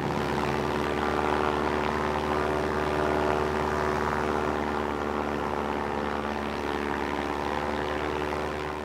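A Junkers Ju 52 propeller airplane flying along the Rhine, its engines droning loud and steady with a rich tonal hum throughout, no voices.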